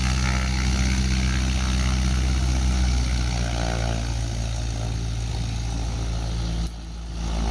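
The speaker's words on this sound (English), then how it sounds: "Bit of an engine run up here." A Scheibe Falke SF-25C motor glider's engine runs up, a loud, steady close droning roar holding for several seconds before dropping slightly in level near the end, with no talking.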